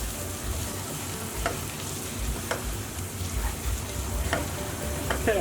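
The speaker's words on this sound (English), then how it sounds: "I'm going to add in a quarter cup of tomato paste. And we'll just stir that through." Tomato paste is stirred into a sizzling curry base in a pan, a soft continuous frying hiss with a few light spoon scrapes and taps, fairly quiet and without speech.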